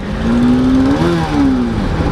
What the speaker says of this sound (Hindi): अगर चलती बाइक में क्लच दबाओगे ना तो सिर्फ रेस जाएगी